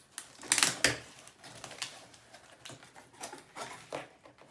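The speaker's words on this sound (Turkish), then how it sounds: "İlk önce bant paketi düzgünce açıyoruz." Crinkling and tearing of tape on a package, with a loud burst of ripping early on and softer rustles and peels following.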